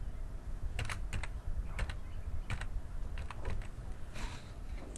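Clicky keystrokes on a computer keyboard while text is entered, irregular taps in short clusters with brief pauses, close and moderately loud over a quiet room hum.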